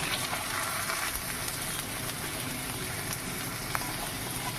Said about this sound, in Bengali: পেঁয়াজ কুচিগুলো লাল লাল করে ভেজে নেওয়া হয়ে গেছে এবার আমরা দিয়েছি পেঁয়াজ বাটা